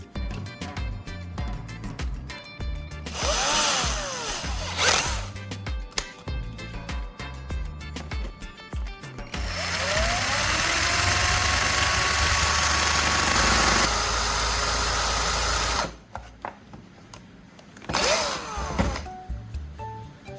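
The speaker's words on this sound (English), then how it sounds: "I've finished grinding the tip so that it's a little sharper." A rivet is ground into a sharper soldering tip with a motorized grinder that runs in bursts, then a long loud steady stretch, with gaps and starting whirs between runs.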